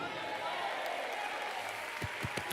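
Church congregation applauding in praise, a steady wash of many hands clapping at moderate distance with a few sharper claps near the end.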